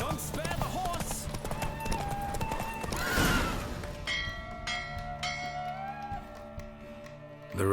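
A horse neighs and whinnies while hooves clip-clop at a gallop during a horse race in The Witcher 3: Wild Hunt, with a loud rushing burst midway and ringing tones in the background.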